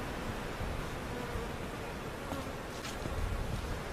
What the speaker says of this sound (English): take that container of bees and put in here and let them walk down